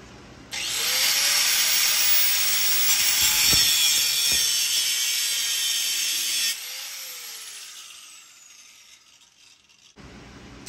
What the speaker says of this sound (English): We're also gonna cut this off. You can use a cutoff wheel or a hacksaw.